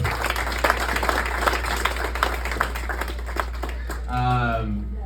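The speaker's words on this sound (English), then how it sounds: "give them a round of applause" A crowd at a VFW fundraiser claps in a steady ripple of applause, and a voice speaks over it as the clapping fades near the end.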